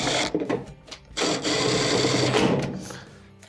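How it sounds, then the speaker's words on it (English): A power driver runs two rear quarter-inch screws back into a dryer console, with short whirring bursts and then a longer steady buzzing run, close and fairly loud. "Let's reinstall the 2 rear 1/4 inch screws."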